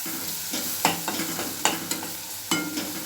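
Onions sautéing in a pan with chili powder, a close steady sizzle punctuated by quick, rhythmic scrapes and clacks of a spoon stirring, no voices.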